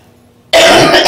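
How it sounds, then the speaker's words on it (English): A sudden loud cough bursts in after a quiet moment, harsh and close, lasting about half a second. "Cough break."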